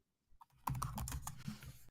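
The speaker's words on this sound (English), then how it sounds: "He's typing" Someone types on a computer keyboard after a brief silence. Two soft isolated taps are followed by a quick, close run of crisp key clicks that carries on steadily to the end.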